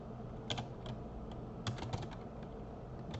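Quiet keystrokes on a computer keyboard come in short irregular bursts, a few quick taps, then a pause, then a faster cluster, while someone edits code in the Atom editor.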